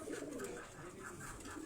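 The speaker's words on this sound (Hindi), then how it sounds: "ये जो कबूतर आप देख रहे हैं ये टेडी कसूरी कबूतर हैं।" Teddy Kasuri pigeons cooing softly in a low, rolling murmur, faint and continuous, with no talk.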